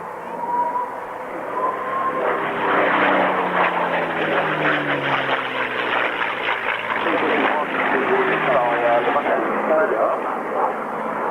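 A propeller aircraft drones past while departing Cranfield at a 1998 classic jets and fighter airshow, its engine swelling to a steady loud roar with shifting pitch. A commentator talks over it on a public address system.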